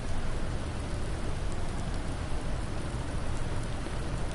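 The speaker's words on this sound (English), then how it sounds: "Freshness of summer rain." Steady in-game rainfall in Farming Simulator 19, a dense, even hiss of drops on the surroundings that holds at a constant level throughout, heard alone with no talking.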